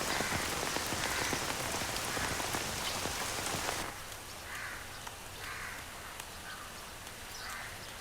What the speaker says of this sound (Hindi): अरे ये बहुत तेज बारिश हो रही है।